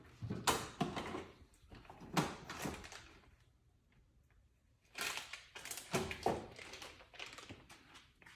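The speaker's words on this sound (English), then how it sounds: "Let me check my drawer for different ones." Someone rummages through a drawer for parts while building a cholo-style bike, with bursts of clattering, scraping and shuffling of loose hardware, a quiet pause in the middle, then more rattling.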